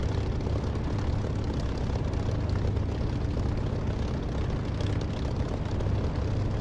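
A propeller-driven aircraft in the DCS flight simulator game gives off a steady, loud engine drone that holds unchanged from start to finish, with no talk over it.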